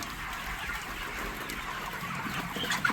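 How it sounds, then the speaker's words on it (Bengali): A mixed flock of 32-day-old broiler hens and roosters in a poultry shed clucks steadily, with a dense, continuous chorus of overlapping calls from many birds close by. "এটা হলো মুরগি, এই যে এই যে। আর এটা হলো মোরগ"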